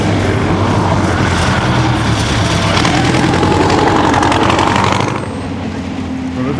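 A vintage car's engine roars loud and close as it climbs the course at the 2015 Chateau Impney Hillclimb, a steady, continuous drone that eases slightly near the end, with some talk beneath it.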